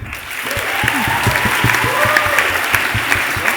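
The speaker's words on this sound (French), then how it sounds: "On applaudit." Spectators at a school gala card magic show burst into loud, dense applause close by, continuous throughout with a few voices and tones mixed in.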